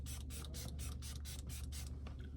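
A facial mist spray bottle fires about eight quick, evenly spaced hissing bursts close up, each a short airy spritz, with no talking.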